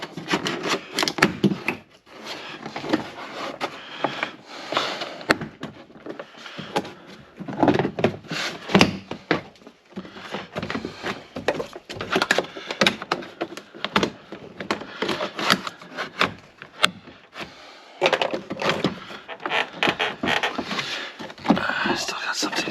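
Plastic trim tabs on a Jeep JKU door panel being pried loose, with scraping, rubbing and sharp pops over about twenty seconds. Someone talks quietly throughout.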